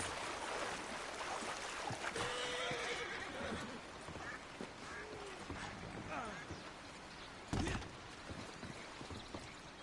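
Horse in a PS4 video game whinnies clearly over rushing river water, with a heavy thump and splash partway through, while a person talks throughout.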